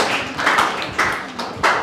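Hands clap at a devotional seminar session, a few loose clustered claps close by in an uneven rhythm, brief and unsustained.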